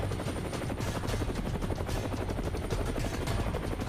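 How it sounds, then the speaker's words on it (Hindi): An Indian Air Force helicopter in the Siachen region gives a loud, continuous rotor and engine roar with rapid blade chop, heard from close by and filling the whole clip. "हमने इस शख्स को हेलीकॉप्टर में बिठाया और फौरन चल पड़े।"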